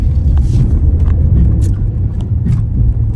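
Subaru car cruising on Highway 101 toward San Francisco, heard from inside as a loud, steady low road and engine rumble with occasional light bumps and no talking.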